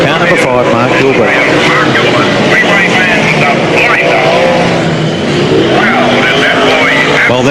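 Sprintcars race around Archerfield Speedway at the 1996 National Sprintcar Championship, their engines a loud, continuous roar that swells and fades as they pass, under a public-address commentator talking throughout.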